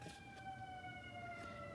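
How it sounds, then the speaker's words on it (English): Emergency sirens pass by outdoors, a faint steady wailing tone heard at a distance for a couple of seconds with no talking over it. "And there goes the sirens."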